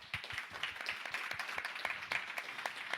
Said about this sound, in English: Let's give a hand clap to her.